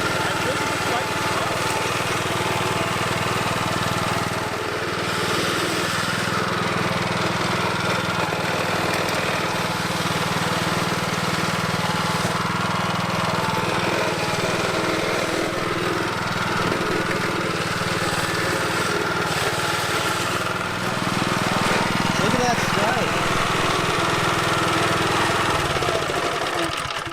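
A lawn mower engine running close by, a loud, continuous buzzing drone that holds steady for the whole stretch with only a slight shift in tone near the end.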